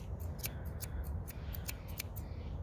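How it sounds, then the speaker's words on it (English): Scissors snipping the hair on the underside of a Newfoundland dog's foot, a quick series of about a dozen sharp, close metallic clicks at an irregular rhythm over a quiet, low background. "I always start by cutting the hair off the bottom of the foot first"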